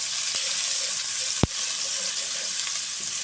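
Chopped onion fries in a pan for bread samosa filling, a steady soft sizzle with one sharp clack of a utensil midway.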